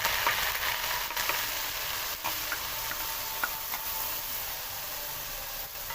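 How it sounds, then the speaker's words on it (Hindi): Ground onions frying in oil in a pan for an aloo gosht recipe, giving a steady, even sizzle close by with a few faint ticks and stirring scrapes scattered through it. "तो अब इसके अंदर सबसे पहले हम प्याज डाल देंगे।"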